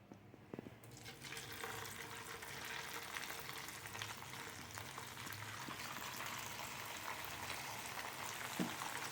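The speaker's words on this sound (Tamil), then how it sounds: "இப்போ இதை செகண்ட் டைமாக நம்ம ஃப்ரை பண்ணிக்குவோம்" Potato fries in hot oil for a second frying, a dense continuous bubbling sizzle that holds steady close by with a faint clink near the start, no voices.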